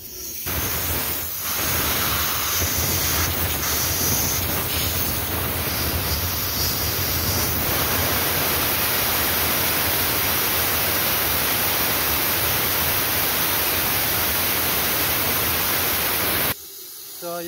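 Steady, loud hiss of air blown through the sunroof drain hole of a Toyota Land Cruiser 200, a continuous rushing blast lasting many seconds that cuts off abruptly near the end.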